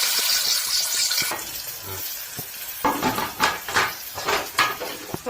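Onions frying in hot oil inside a pressure cooker for mutton curry, a steady close hiss and sizzle with bursts of stirring scrapes and metallic clinks growing busier toward the end.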